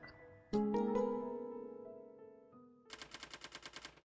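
Gunfire aimed at zombies in the Roblox game The Breakout: a ringing tonal weapon sound opens, then a rapid burst of about ten evenly spaced shots closes it, fairly faint overall.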